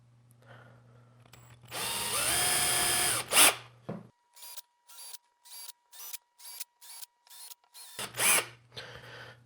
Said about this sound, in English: next up, just drilling up the holes.